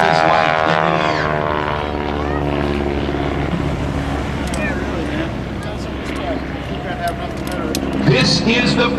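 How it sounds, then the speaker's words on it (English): A stock Boeing Stearman biplane's radial engine and propeller drone loudly at an airshow during a hammerhead stall turn, a sustained throaty roar shifting in pitch, with a commentator talking over it throughout. "a stock Stearman like John Mohr as he quickly does a hammerhead stall turn, setting up for the first part of his routine"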